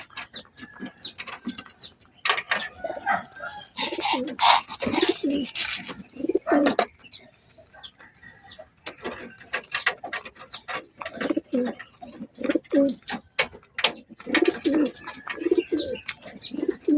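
Racing pigeons coo repeatedly in a loft, with soft, throaty bursts coming in irregular clusters close by, alongside faint chirps and a thin steady background hum.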